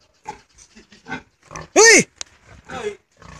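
A pig squeals loudly in one strained, rising-and-falling burst while a boar mounts a sow on a farm, framed by scattered talk and a few short grunts before and after.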